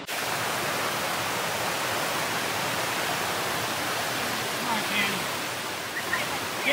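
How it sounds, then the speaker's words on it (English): A small creek crossing a hiking trail near Lake Placid, New York, rushes steadily and close by, a continuous broadband wash of flowing water with no breaks. "We've got a little creek here to go over."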